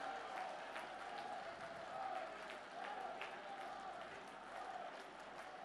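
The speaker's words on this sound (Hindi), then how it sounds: "दोनों हाथ ऊपर उठाकर तालियां बजाकर अभिनंदन करें" Large outdoor crowd at a public rally in Khandwa, Madhya Pradesh, clapping in a steady dense wash with scattered louder claps, moderately distant and even throughout.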